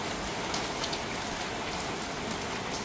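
Rain falls steadily outdoors, a dense, even hiss of drops striking surfaces with occasional louder patters, continuous and fairly close with no voices.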